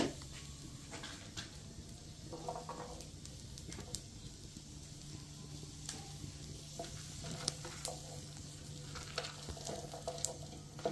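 Garlic, bay leaves and peppercorns fry in a pan with a steady low sizzle and occasional stirring scrapes, fairly quiet and even throughout.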